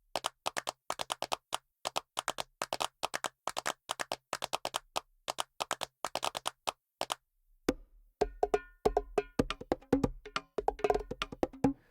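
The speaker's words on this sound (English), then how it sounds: "Some clap patterns, some hand claps." Hand clap pattern from the Native Instruments Session Percussionist software, crisp rhythmic claps in short repeating bursts, followed after a pause by a fuller percussion groove with claps over a low beat.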